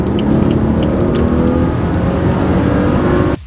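A BMW 335i engine revving, a steady, loud, deep engine roar holding throughout before cutting off abruptly at the end, with no talking.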